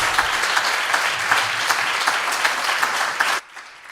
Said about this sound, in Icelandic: gefum henni ótrúlega gott klapp aftur